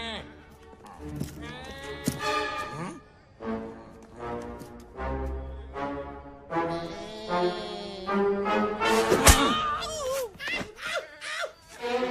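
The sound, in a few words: person imitating goat bleating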